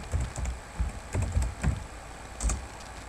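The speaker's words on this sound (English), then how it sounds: "So type in Google Webinaria." Close computer keyboard typing comes in quick irregular bursts of clacking keystrokes with short pauses between them, and no one speaks.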